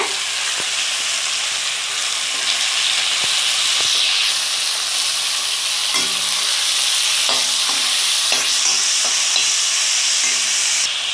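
Onion, mint and coriander sauté and get stirred in a hot pan for tomato rice, giving a steady close sizzle and hiss with scattered scraping stirs and clatter that continue throughout.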